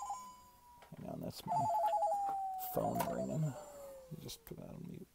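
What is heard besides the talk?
telephone ringing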